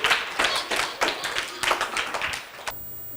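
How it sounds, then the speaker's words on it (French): A small group of people clap at a children's Christmas dinner, a brief round of distinct, uneven hand claps close by that stops abruptly near the end. "On applaudit Olivier Racine."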